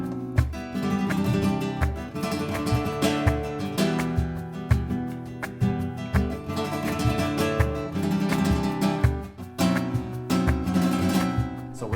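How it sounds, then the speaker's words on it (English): Flamenco guitar strummed with a three-finger a-m-i rasgueado, dense rolling bursts of strums ringing continuously, close and full, with no speech. "the three-finger rasgueado, AMI rasgueado, sounds like this"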